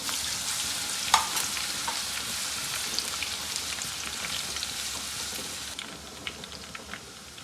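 Onion, garlic and ginger fry in a pan with whole spices for a kofta curry, giving a steady close sizzle with scattered crackles and pops and one sharp spit near the start, with no talking.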